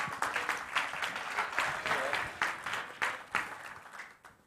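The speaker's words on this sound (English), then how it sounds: "Give him a hand clap." An audience at a church sermon claps in bursts, with rhythmic, sharp hand claps swelling and fading in waves, fairly close and lively, then tapering off toward the end.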